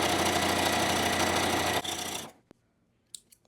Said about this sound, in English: Now I'll go ahead and sew the second one.